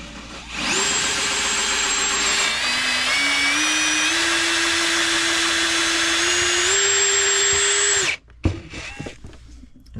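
A power drill whines steadily and loudly as it bores through a boat's fiberglass, its pitch stepping upward as the bit works through, then cutting off abruptly near the end, leaving quieter rustling.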